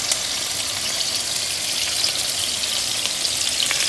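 Turkey meatballs brown in a hot pan, a loud, even, crackling sizzle with tiny pops throughout, no voices.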